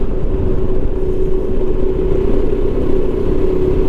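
Motorcycle on Dunlop Trail Max Mission tires running fast down a gravel road, a loud steady engine drone with constant wind and road roar throughout, no voices.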